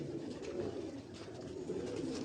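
Pigeons of a high-flying breed sit on a rooftop loft, cooing in low, muffled, continuous murmurs, faint and close, with no voices.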